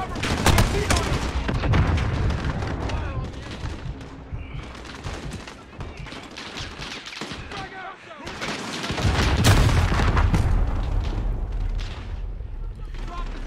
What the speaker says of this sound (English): He picked up the grenade and it still blew up.